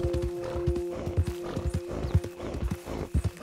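A horse gallops in Red Dead Redemption 2, rapid clip-clop hoofbeats in a steady driving rhythm, close and loud, with a faint whinny under the pounding.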